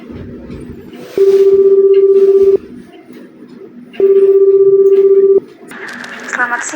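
A phone line on a call to an insurance company gives two long, steady ringing tones, each about a second and a half, separated by a pause, over a low murmur of background noise.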